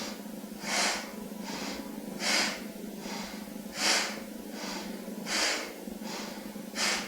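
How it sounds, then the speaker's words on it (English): Slow, steady yoga breathing during a gentle flow, with about nine airy inhales and exhales alternating in an even rhythm, some breaths fuller than others, close and alone over a faint low hum. "inhale to the left, exhale to the right"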